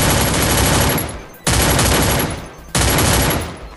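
UMP submachine gun in the Free Fire video game, three loud, close bursts of rapid automatic fire, each trailing off before the next begins.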